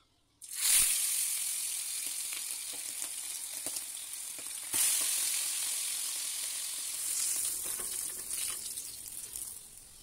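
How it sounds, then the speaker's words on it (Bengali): Pomfret fish are dropped into hot oil and fry with a loud, continuous sizzle that starts abruptly after a moment of quiet and surges again about halfway through. "আমি তেলটা গরম হয়ে গেলে আমি মাছগুলো প্রথমে ভেজে নেব।"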